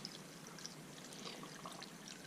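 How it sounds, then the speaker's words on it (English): Coconut sugar water poured over pineapple skins and scraps in a container, a soft, continuous trickle and splash, faint and close, with no voices. "now I'm gonna pour the coconut sugar water on it"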